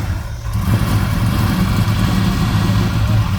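Steady low rumble of classic and hot rod car engines idling together at an outdoor car show, loud and continuous, with a busy outdoor murmur around them and no talking.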